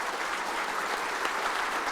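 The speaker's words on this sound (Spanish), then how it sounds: "recibamos a Hugo con un fuerte aplauso" An audience at a talk gives a sustained round of applause for a speaker: dense, even clapping that holds steady throughout, with no voices standing out.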